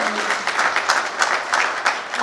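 Audience claps loudly at a Gurjar community gathering as a former minister comes to the stage, a brief burst of dense, even applause.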